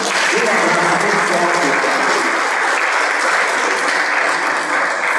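A church congregation claps steadily and loudly for several seconds during a Portuguese-language worship service, the applause dense and continuous throughout.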